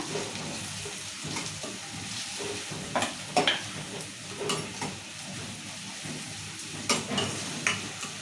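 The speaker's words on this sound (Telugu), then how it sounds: "ఇప్పుడు మిరపకాయ పల్లి ఉల్లిగడ్డ కూడా వేసుకున్నాం తరిగి పెట్టుకున్న ఉల్లిగడ్డ వేసుకున్నా" Chillies, peanuts and chopped onions frying in hot oil for a taro tamarind curry, a continuous close sizzle broken by several bright stirring scrapes and spatters, no voices.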